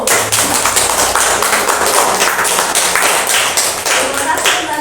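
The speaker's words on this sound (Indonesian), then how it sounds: "beri tepuk tangan untuk kelompok 1" A crowd applauds with dense, continuous clapping for several seconds, fairly loud and close, with a few voices mixed in.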